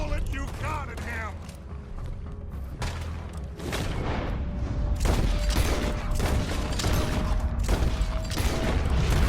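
Gunfire in the video game Red Dead Redemption 2: bursts of loud shots and booms ring out over a dense, busy soundscape, with mechanical clatter and voices mixed in throughout.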